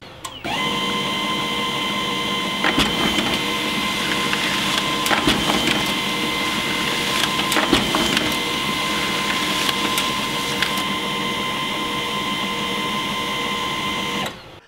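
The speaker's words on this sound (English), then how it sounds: "The P1505 could be considered a bit loud for what's essentially a personal device." An HP LaserJet P1505 laser printer runs continuously with a steady mechanical whir, punctuated by several sharp clicks and clacks as pages feed through, then stops abruptly.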